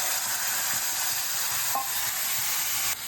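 Spices crackle in hot oil for a tadka tempering, a loud, steady, close hiss of frying that runs without a break from start to finish.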